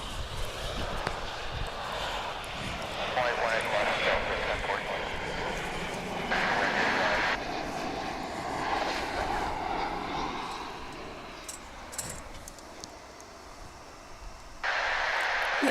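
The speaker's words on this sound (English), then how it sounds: "Delta Airlines A320 headed to LAX is next out." Delta Airlines A320 bound for LAX taking off at DFW International Airport, a distant broad engine roar that swells and holds steady, with wind noise and a voice talking intermittently over it.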